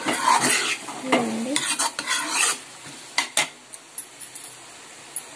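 Sliced bitter gourd with chili powder fries on a low flame, its sizzle steady under scraping stirs and sharp metal clinks of a spatula against the pan, which grow sparser and lighter toward the end.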